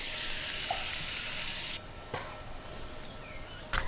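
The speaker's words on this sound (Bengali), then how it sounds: "ওই তেলের মধ্যে কারি পাতাগুলো দিয়ে দিলাম" Curry leaves sizzle in hot oil in a pan beside fried puffed rice for a quick snack. A loud, steady crackling hiss lasts about two seconds, then settles to a softer sizzle with a few utensil clicks.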